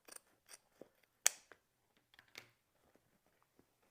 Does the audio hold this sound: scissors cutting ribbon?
yes